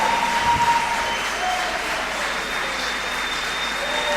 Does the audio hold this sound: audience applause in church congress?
yes